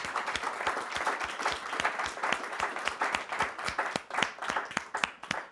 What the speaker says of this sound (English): So another big round of applause to our invited speaker, Konrad.